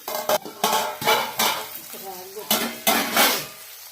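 A spoon scrapes and knocks around a pan of bean curry, giving a series of close, irregular clattering strokes with a light sizzle beneath.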